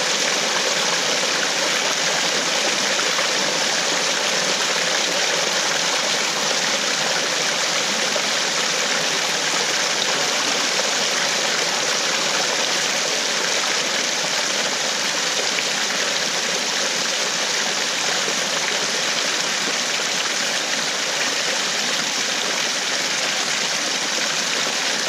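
Water rushes steadily through the intake screen of a homemade micro hydro system, a loud, unbroken broadband flow that holds constant without pauses or voices.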